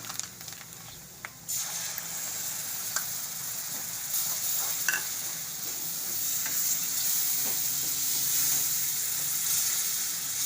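Yogurt stirred into cooked gram flour in a pan for a Gujarati chili curry, giving a steady close sizzle and wet stirring scrape that continues without pause, slightly louder after the first second and a half.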